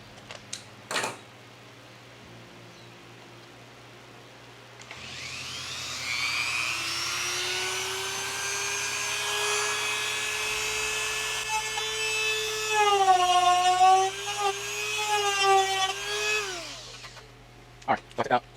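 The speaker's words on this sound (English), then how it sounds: "let me put on my other Dremel bit and let's go ahead and take that." A Dremel rotary tool bit cuts into a Hangar 9 Extra 330SC model airplane, whining loudly and steadily close by for about twelve seconds, its pitch dipping under load near the end before it spins down.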